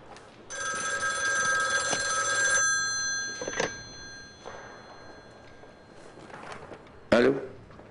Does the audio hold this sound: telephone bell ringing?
yes